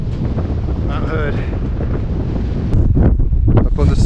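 Strong wind buffeting the sunny, cold summit of Mt Adams, a loud rough roar pounding the microphone with gusts strengthening toward the end, a voice faintly mixed in.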